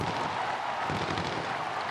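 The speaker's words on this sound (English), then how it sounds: "Fireworks." Fireworks booming after a Pittsburgh Pirates extra-inning home win at the ballpark, a dense wash of distant bangs and crackles blended with a roaring crowd.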